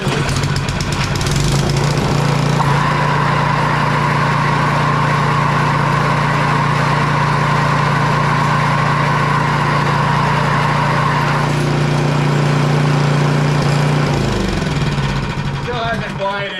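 A 22-inch Craftsman MTD Troy-Bilt snow blower with a newly replaced auger belt and idler pulley runs steadily, its loud, close engine drone holding an even pitch for most of the clip before easing off near the end.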